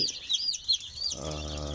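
Day-old black Kadaknath chicks chirp in high, rapid peeps inside a brooder, close and clear, before a low steady hum takes over near the end.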